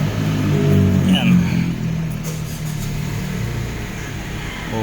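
An MG 2020 car that shakes in reverse, especially with the air conditioning on, is started and idles after its throttle body is refitted, giving a low steady engine rumble under close talking.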